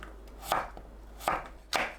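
A knife slices a quartered potato into 0.5 cm pieces, three crisp, evenly spaced chops on a cutting board, close and clear with no talking.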